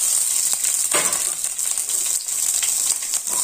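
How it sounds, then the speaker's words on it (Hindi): A teaspoon of oil with onions in a kadai, sizzling loudly and steadily close by, with occasional scraping stir strokes and no voices. "कढ़ाई में थोड़ा सा 1 टीस्पून ऑयल लेंगे, इसमें अनियन डालेंगे"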